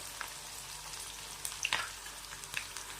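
Finely chopped onion and green chillies fry softly in a cumin tempering, a faint sizzle with a few light stirring clicks and small pops, no voices.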